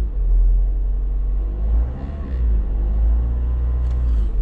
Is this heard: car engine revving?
yes